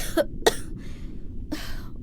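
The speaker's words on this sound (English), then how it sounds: "It's only when the girl next to him coughs that he realizes he isn't alone." A girl coughs three times in a quiet, dark space: two quick coughs close together, then a single cough after a pause, near and alone with faint background hiss.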